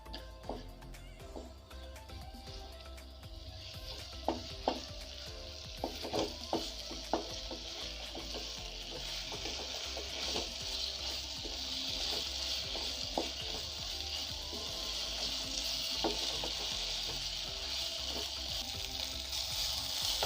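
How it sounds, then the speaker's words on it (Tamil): Spicy paneer chukka fries in a pan, a steady broadband sizzle that holds throughout, with scattered clicks and scrapes of stirring rising above it, close and fairly loud with no voices. "நல்லா ஒரு ட்ரை கன்சிஸ்டன்சி வர வரைக்கும் நல்லா ஃப்ரை பண்ணிக்கோங்க"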